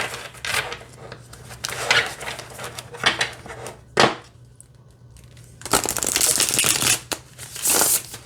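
Harmony Tarot cards being shuffled by hand, giving bursts of riffling and flicking card noise, with a few sharp taps, a quiet pause around the middle, and a loud, dense shuffling stretch toward the end.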